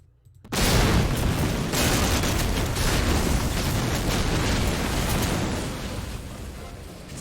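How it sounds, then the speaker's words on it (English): A heavy explosion bursts in the Medal of Honor Allied Assault World War II shooter, a sudden loud blast that rolls into a long, dense rumble and slowly fades. "it's a good thing explosion in my face doesn't do anything"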